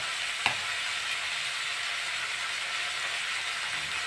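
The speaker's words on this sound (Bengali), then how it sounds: "ভালো করে ভেজে নেবো। 4-5 মিনিট আমি ভেজে নিয়েছি।" Potatoes, beetroot and beans fry in a pan with a steady, even sizzle, one brief clink of a utensil near the start, and no talking.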